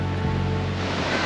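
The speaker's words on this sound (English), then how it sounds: "we are in the Black Beach" Surf rolls in at Black Beach near Varkala, India, a brief steady wash of breaking waves with wind rushing across the microphone.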